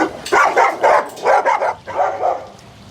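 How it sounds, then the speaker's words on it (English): Dogs bark in quick repeated bursts, several sharp woofs in a row at moderate distance, clear and fairly loud with no talk over them. "If you listen real close, you can kind of hear dogs barking."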